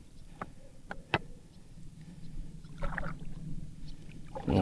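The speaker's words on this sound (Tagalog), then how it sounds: "Ang ating sasakyang bangka." A small fishing boat on water in Ulugan Bay, with soft splashing and knocking sounds and a low engine-like hum, a few sharp clicks near the start and louder sloshing toward the end.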